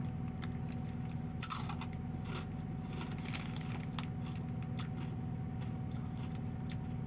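Crunchy okra chips bitten and chewed close up, one sharp crisp bite near the start followed by steady quiet crunching over a low background hum, with no talking.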